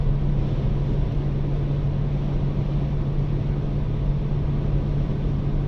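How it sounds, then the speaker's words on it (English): A small flatbed truck passes along a quiet rural road in Smithton, Tasmania, a steady, loud engine drone with a low hum holding evenly throughout and no talk. "Comes a small truck."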